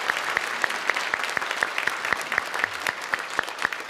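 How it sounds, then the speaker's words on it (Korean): A church congregation at a Sunday worship service claps in a steady, regular rhythm to welcome newcomers, sharp, evenly spaced beats over a soft wash of crowd noise. "박수로 환영하도록 하겠습니다"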